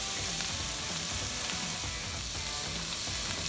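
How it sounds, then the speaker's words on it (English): Onions and mushrooms saute over high heat in a pan, browning rather than sweating, giving a steady, close, continuous sizzle with faint scraping stirs and no talking. "we'll add your onions and mushrooms and saute it on high heat"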